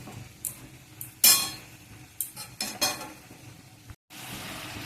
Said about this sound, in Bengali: ডাঁটাগুলো ঢেলে দিয়ে এইটাকে আবার আমি একটু নাড়াচাড়া করে কষিয়ে নেব।